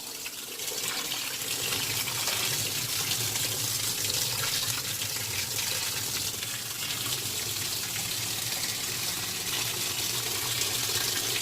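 Water gushes steadily into a top-loading washing machine with a central agitator during its second rinse cycle. The continuous rushing fill runs at an even level throughout, with no voices.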